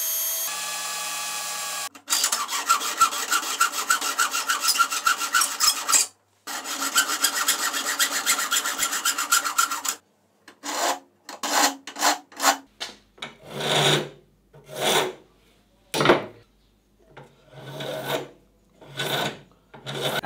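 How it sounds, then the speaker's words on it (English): Cutting the engraved corners out of a Boeing 737 MCP (mode control panel) faceplate in a home workshop: a steady, loud rasping cut for several seconds, then a run of short, separate scraping strokes with pauses, no talking. "the first thing I want to do to Joe's MCP faceplate is cut these engraved corners out"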